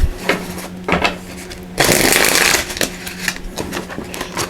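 Tarot cards being shuffled close up: a quick riffle burst in the middle, surrounded by softer taps and sliding card sounds, no talking.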